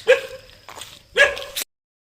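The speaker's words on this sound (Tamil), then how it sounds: "நாய் பார்த்து எங்களை குலைக்குது" A dog near a hill temple at Theerthamalai barks at passing visitors, about three sharp, loud barks close by with short gaps between them, ending abruptly.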